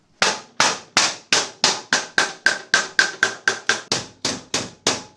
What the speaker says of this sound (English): A block of wood to use as a dolly and a hammer.